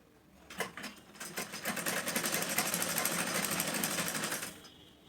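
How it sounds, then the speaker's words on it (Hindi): A sewing machine stitches lace onto a blouse neckline, starting with a few slow stitches and then settling into a fast, steady mechanical rattle for several seconds before stopping, close and clear. "फोल्ड करने के बाद हमें इस पर लेस लगाते हुए सिलाई मारनी है"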